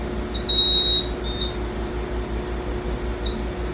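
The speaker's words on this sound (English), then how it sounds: "So to stop this beeping," A fire alarm panel in trouble mode gives a few short, high electronic beeps, two close together then a lone one later, over a steady room hum.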